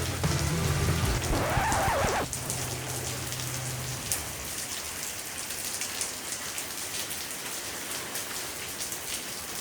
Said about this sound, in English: I don't mind riding in the rain